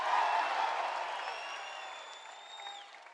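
A large crowd in Sydney at a UFC press conference roars in a loud, sustained cheer and applause that slowly fades, with a whistle cutting through near the end.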